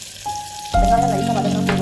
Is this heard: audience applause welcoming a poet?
no